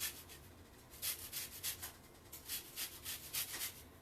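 A whole lemon rubbed against a small kitchen grater, soft rapid rasping strokes in a steady rhythm, close but fairly quiet, with no voices.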